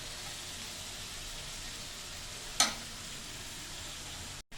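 Washed, drained potatoes go into a hot pan for a bitter gourd and shrimp fry. One sharp clatter lands over a constant hiss of sizzling oil, which cuts out briefly near the end.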